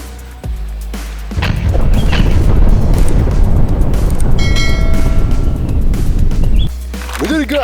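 In-game grenade blast in a shooter game: a loud, sustained crashing roar erupts after a short pause, holds for about five seconds, then cuts off abruptly, with voices chattering around it.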